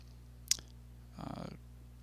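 Two quiet mouse clicks, a sharp single click followed a moment later by a softer, slightly longer clicking burst, in a still room while a virtual machine is being set up on a Mac.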